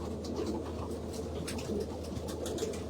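A big, strong racing pigeon coos softly in a steady, low murmur with a few faint bird calls above, continuous and fairly quiet throughout.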